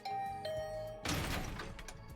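A two-note ding-dong doorbell chime sounds twice in the video game The Hundred Line: Last Defense Academy, clear and close, followed abruptly by a loud burst of rushing noise as a door is thrown open.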